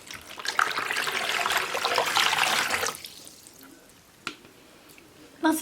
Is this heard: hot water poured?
yes